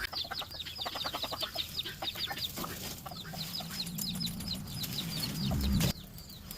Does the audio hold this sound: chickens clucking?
yes